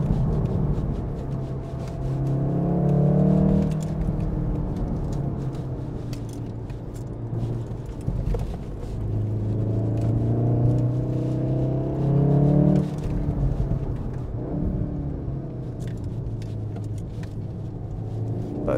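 A VW Golf 7.5 R with an Akrapovic exhaust accelerating on a country road, two rising engine pulls with a rasping exhaust note separated by a quieter cruise, heard from inside the car at moderate level.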